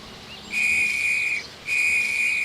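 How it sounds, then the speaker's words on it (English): Two long, shrill blasts of a railway guard's whistle, near and loud, with a short pause between them. "The guard blew his whistle till he had no more breath"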